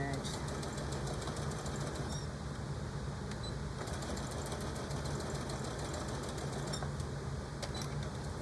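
A sewing machine stitches a tool carry bag with a steady, dense mechanical whirr that runs without a break, close and moderately loud, and a voice speaks faintly in the background.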